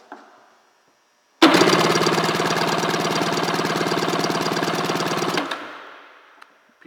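A 1991 Seadoo XP 587 two-stroke engine cranks on the PTO side during a compression test, giving a steady, rapid chugging that runs about four seconds at close range and then winds down.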